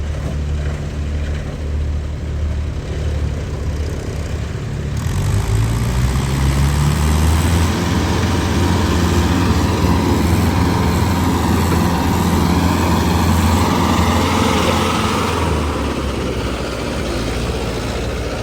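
A tractor pulls a trolley loaded with maize in medium gear, its loud engine droning steadily up close; the rumble swells and deepens partway through as the load gets under way.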